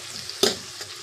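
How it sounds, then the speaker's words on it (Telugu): Chopped onions and green chillies fry in a pan, a low sizzle broken by one sharp, loud burst of crackling as they are tossed, then settling back. "బాగా ఫ్రై చేయాలి."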